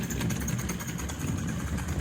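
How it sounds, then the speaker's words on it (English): A Mamod Mk 3 live steam engine runs nearby, giving a busy, even mechanical chuffing and whirring with a steady rapid rhythm and a hissing wash above it. "You get a little engine like this that's a budget engine."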